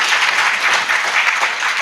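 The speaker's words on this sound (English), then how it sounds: "A nice round of applause." An audience at a small business forum panel claps in a brief, loud, even burst of applause that holds steady without any voices over it.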